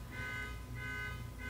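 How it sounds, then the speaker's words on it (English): Car alarm sounding in the background, a steady repeating electronic tone pattern with a low hum underneath, distant and continuous with no talk. "there's a car alarm going off in the background"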